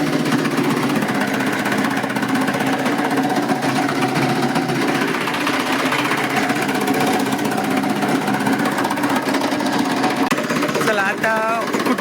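A chaff cutter machine chops cattle fodder on a farm, giving a steady, loud mechanical whirring and chopping drone that runs unbroken throughout.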